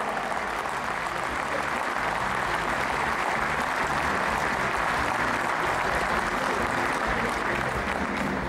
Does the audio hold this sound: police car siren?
no